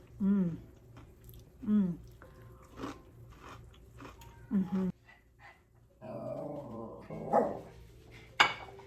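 Dogs bark in short bursts, a few separate barks spaced apart, then muffled household clatter and a voice.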